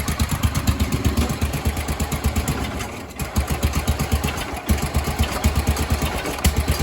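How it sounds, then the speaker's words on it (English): A 1976 Sears ST12 garden tractor's small engine runs in a close, loud, steady rapid chugging rhythm, with a brief dip near the middle where it falters before picking back up. "If I try to give it gas, it dies out because I don't think there's enough fuel coming in."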